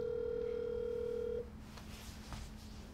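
A home telephone gives a steady tone for over a second while a call is placed, then cuts off, leaving quieter room noise with a faint clatter and murmur.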